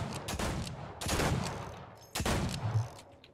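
Bursts of rapid gunfire ring out in a Fortnite match, two dense volleys separated by a short pause, moderately loud over the game's background ambience.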